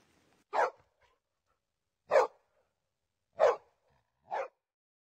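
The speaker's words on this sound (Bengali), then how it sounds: "আচ্ছা কুকুরের ডাক" A dog gives four short, separate barks at even intervals over about five seconds, fairly close and clear, with silence between them and no other sounds.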